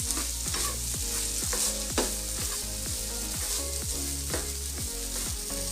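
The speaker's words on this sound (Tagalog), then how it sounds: "haluin ng mabuti para yung lasa ng fresh lemon juice at sesame oil ay makahalo siya sa rice" Chinese fried rice with fresh lemon juice and sesame oil being stirred in a hot pan, with a regular rhythm of spatula scrapes and knocks over a continuous background sizzle.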